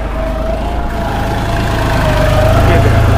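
A tractor engine runs steadily in four-wheel drive, a loud, low, continuous drone with a faint higher whine on top that builds slightly toward the end.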